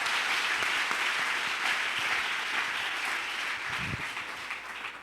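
A church congregation applauds together in dense, sustained clapping that fills the room at a steady level before easing slightly at the end.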